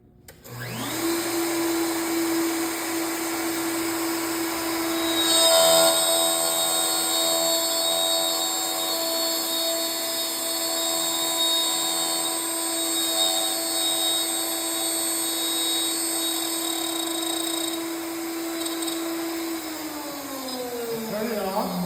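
A wood router cuts a dovetail with a dovetail bit, a loud, steady high-pitched motor whine sustained throughout, spinning up at the start and winding down at the end, close to the listener.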